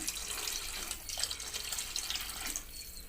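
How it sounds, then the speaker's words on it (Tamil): Steady rush of water poured from a cup and splashing into a cooking pot, continuous and close, with no talking. "ரெண்டு கப்பு தண்ணி விட்டுக்கோங்க"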